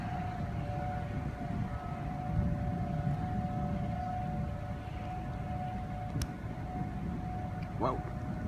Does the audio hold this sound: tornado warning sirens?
yes